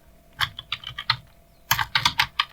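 Typing on a computer keyboard: two short bursts of quick, close keystrokes separated by a brief pause, crisp and alone.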